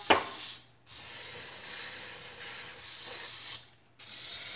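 Two long hissing bursts of aerosol oven cleaner sprayed onto stove drip pans, each lasting a few seconds with a short pause between, close and steady.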